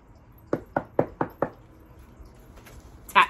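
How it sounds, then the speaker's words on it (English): Five quick, evenly spaced knocks on a door, close and sharp, followed by a pause and a louder thump at the end. "Just then there was a knock on the door."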